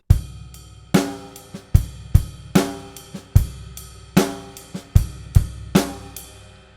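Drum groove from the Trinity Rock & Pop Grade 4 arrangement, played with light snare ghost notes and no buzz stroke: steady kick and snare hits with soft in-between notes, close and clear, no voices.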